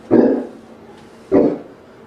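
Two loud barks from dogs at a house, warning passers-by on the sidewalk out front, spaced about a second apart with a quiet gap between.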